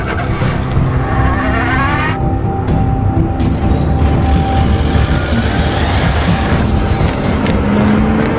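A car engine runs loud and steady close by, with a dense continuous roar and some rising revs throughout, and no voices.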